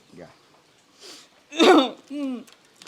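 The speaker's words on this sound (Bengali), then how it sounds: "আচ্ছা বল তাহলে আমি কাশছি" A man coughs in a staged comedy scene: one loud, harsh burst in the middle, with softer throat sounds and brief vocal noises before and after.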